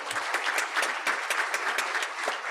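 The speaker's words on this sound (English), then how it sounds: "He gets his own applause since we left him for last." Audience applause at a mayors reception held by a business chamber, a steady, full round of many hands clapping close by for the whole stretch, with no talk over it.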